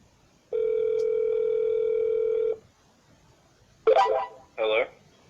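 A steady telephone dial tone holds for about two seconds during a cold call to a real estate prospect, then cuts off, followed by two short bursts of tones or a faint voice on the line.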